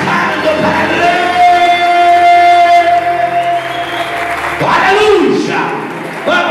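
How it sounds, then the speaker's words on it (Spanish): A church congregation during a Sunday service applauds loudly with shouts and cheers mixed in, while a voice and sustained tones carry over the crowd noise. "Basta y aplaude fuerte"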